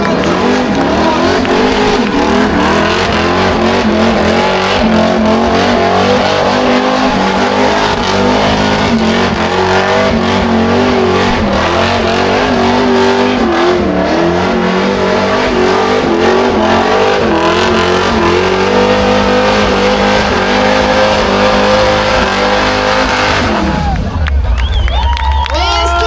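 A 600,000-kroner car revs hard and races around at a gathering, a loud continuous engine roar with rising and falling pitch and tire squeal, a crowd cheering underneath, until the engine suddenly drops away near the end.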